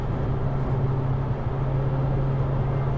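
A constant low drone fills the cabin of a Dodge Challenger Hellcat while driving, a steady, unbroken hum at moderate level with no talk.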